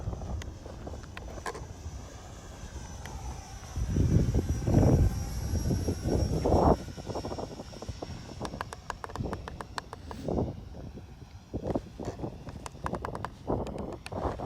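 A small RC jet powered by a 50mm electric ducted fan makes a speed pass outdoors, its faint rushing whine swelling to a loud whoosh as it passes close, then fading under wind noise, with scattered clicks afterward.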